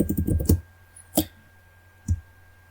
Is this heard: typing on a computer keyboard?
yes